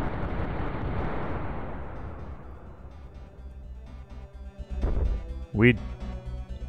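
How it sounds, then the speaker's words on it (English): A magical fire-dragon spell from a volcano in the Eternal Eyes video game erupts as a loud, long roaring rumble that slowly fades, followed by two brief rising whooshes near the end. "shoot him with magical fire dragons from a volcano"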